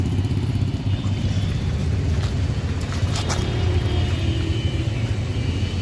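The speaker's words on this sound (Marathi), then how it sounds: "या माणसानं सायलेन्सरचा आवाज घेतलाय खाली" A running vehicle fitted with a modified silencer exhaust gives a loud, continuous low rumble and throb, heard close and steady throughout with no one speaking.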